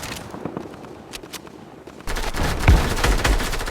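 Gunfire in the Fortnite video game, with sparse shots in a quieter opening, then a denser, louder burst of rapid shooting in the second half.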